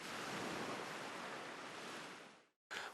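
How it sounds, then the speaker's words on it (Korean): Ocean waves played as white noise to calm dogs left alone, heard as a loud, steady broadband roar of surf that fades out near the end, followed by a brief return after a short silence. "파도 소리 등을 들려주면"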